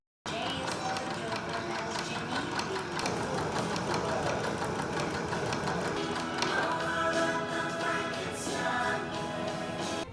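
A sewing machine stitching contrasting rows about half an inch apart, a continuous mechanical whirr with rapid needle ticking running steadily from start to finish, with faint background music.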